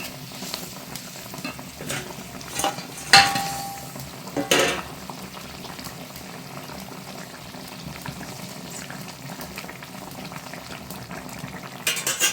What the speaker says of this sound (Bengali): জলটা দিয়ে দেবো ঝোলটা এবার ফুটে গেছে এবার মাছগুলো দিয়ে দেবো একে একে